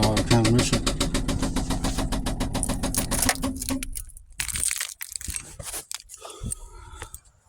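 A 1998 Ford F-150 with a 4.6 V8 runs with a rapid, rhythmic knocking for about three seconds, then the engine cuts out and scattered clunks and rattles follow nearby.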